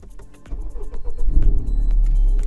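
A 2017 Honda Civic Type R with a 2-litre engine firing up, its exhaust swelling from a low rumble into a loud, deep idle close by after a few faint clicks.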